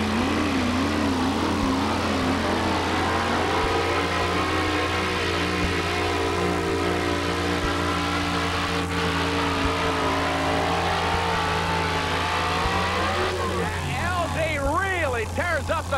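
1934 Ford panel van in the two-wheel drive super modified class at a 1989 truck pull in Atco, New Jersey, its engine roaring loud and continuous with climbing revs, under an announcer's commentary.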